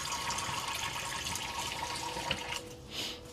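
Hands rinsed under a running tap give a continuous soft hiss of flowing water, fairly quiet and steady, with a brief splashing swell near the end.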